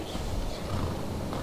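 Horses in the video game Skyrim make a steady, low, rumbling sound of hooves and snorts that carries through the whole short stretch at an even level.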